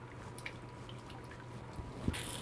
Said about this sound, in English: Cream goes in.